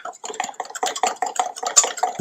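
Rapid, steady clinking and swishing of a whisk beating oil into salad dressing in a bowl, a continuous close rhythmic scraping with no voices.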